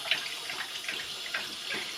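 Water running from a tap into a sink indoors, a soft, steady splashing stream heard close up with no talk.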